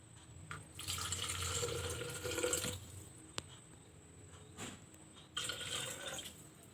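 Coconut water poured into a measuring cup, heard as two soft bursts of splashing liquid separated by a quiet pause, faint and close, with no talking.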